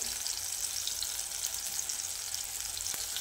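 Stuffed brinjal sizzles in a pan with frying tomatoes, giving a continuous close hiss and crackle of hot oil with a few faint clicks, and no one speaks.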